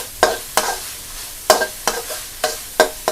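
Shrimp paste stir-fried with coconut milk and pork in a pan for Thai fried rice: a spatula scrapes and tosses in about six brisk, evenly spaced strokes over a soft, steady sizzle, close up with no talking.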